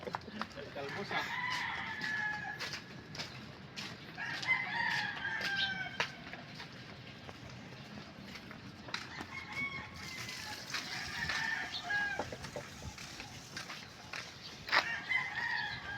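Chickens on a farm estate, with roosters crowing repeatedly and hens clucking at moderate distance, several calls overlapping across the stretch, while a person talks intermittently in the background.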